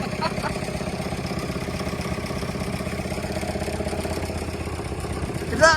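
Vintage tractor engine idling after a hand-crank swing start at an outdoor tractor show, a steady mid-pitched chugging clatter up close, with voices talking over it.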